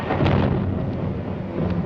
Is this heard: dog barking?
no